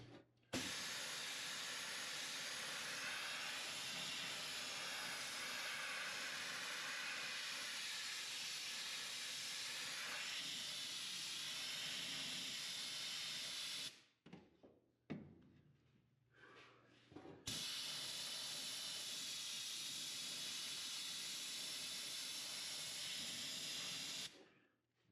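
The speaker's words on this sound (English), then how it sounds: "I'm going to blast this area and I'm going to clear out for a few minutes and let the air clear" Abrasive blasting on a rusted Pontiac GTO floor pan: a loud, steady hiss of blasting air that runs for about fourteen seconds, cuts out briefly, then resumes just as strong.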